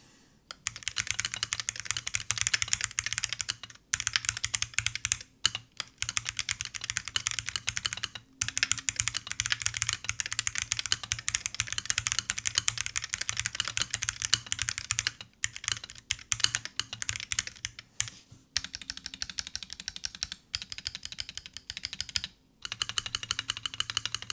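Rapid typing on a carbon fiber mechanical keyboard, a dense stream of sharp, crisp clicks close up, with a few brief pauses, and no voices.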